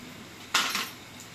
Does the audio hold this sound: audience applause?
no